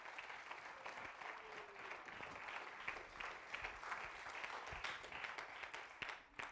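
A church congregation claps together during a Spanish-language sermon, a steady crackling wash of applause holding throughout, moderately distant and fairly faint.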